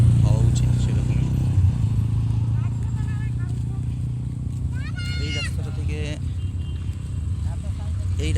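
Traffic runs along a wide highway toward Siliguri, a steady low engine rumble with passing vehicles under a man's close, continuous talking.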